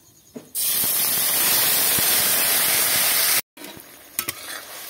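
Ground spice paste hits hot oil tempered with cumin, bay leaf, dried red chilli, cinnamon and cloves, bursting into a loud roaring sizzle for about three seconds, then cutting to quieter frying with stirring clinks.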